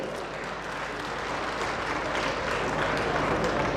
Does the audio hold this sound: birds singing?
no